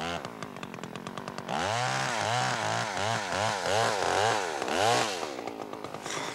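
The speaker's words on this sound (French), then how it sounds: "Ça en fait du bruit, une scie mécanique." Chainsaw cutting wood outdoors in snow, loud and close: a brief idle, then a long bogging cut with rhythmic surging engine pitch that eases back to idle.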